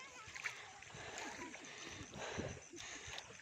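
Feet tread through muddy water in a paddy field, giving repeated soft splashes and sloshing steps at close range, quiet overall, with faint voices in the background.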